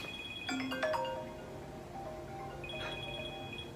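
A phone rings with an incoming call, sounding a melodic ringtone of bright, sustained electronic tones that step through a short phrase and repeat at moderate loudness.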